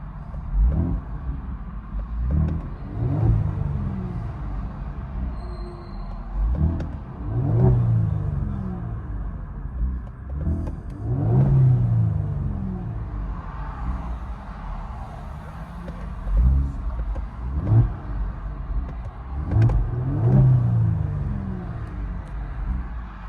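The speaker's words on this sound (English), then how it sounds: "Kia Stinger GT Borla S-type system." Deep exhaust of a 2018 Kia Stinger GT with a Borla S-Type system, heard from inside the car, rising and falling in repeated revs with a steady low rumble throughout.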